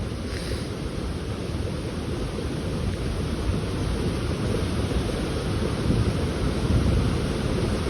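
Fast-flowing water after rain rushes steadily and loudly nearby, a dense continuous roar without pauses.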